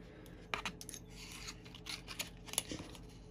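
Scissors snipping and rasping through a clear Lexan body shell for an RC4wd TF2 K5 Blazer scale truck, with quick irregular cuts and scraping rubs up close, fairly quiet, with no voice.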